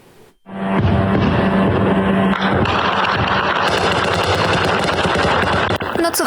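Air defense gunfire aimed at Shahed drones: loud, sustained bursts of rapid machine-gun fire after a short quiet opening, dense and continuous, with a sharp crack near the end.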